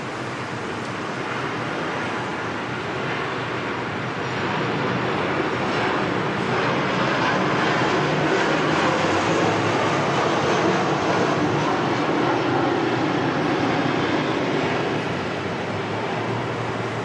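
A Qantas jet bound for Jakarta at Sydney Airport in wet, windy weather, a loud sustained engine roar that swells slightly midway and stays steady without talk.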